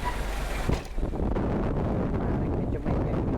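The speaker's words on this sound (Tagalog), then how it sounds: "sobrang lakas po ng hangin dito" Strong wind buffets the microphone at a private cemetery, a loud, continuous low rumble with gusty swells that briefly dip and return, dominating the scene.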